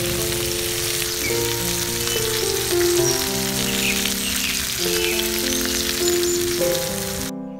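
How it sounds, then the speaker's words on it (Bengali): Eggplant pieces frying in hot oil for a masala brinjal curry, a steady crackling sizzle through the whole stretch, with background music playing over the frying noise. "এখন বেগুনগুলোকে এপাশ ওপাশ করে নেড়ে হালকা ভেজে নিলাম।"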